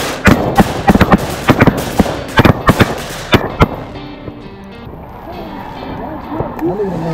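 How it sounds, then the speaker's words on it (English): Shotguns fired straight up at ducks during an Arkansas duck hunt: a rapid volley of loud, sharp gunshots in close bursts for several seconds, then quieter outdoor ambience with faint voices and splashing. "Get ready to shoot straight up."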